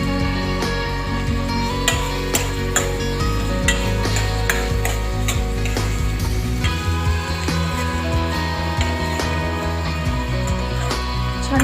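Ingredients for shahi paneer fry in hot oil until browned, giving a continuous close sizzle punctuated by sharp clinks and scrapes of stirring in the pan.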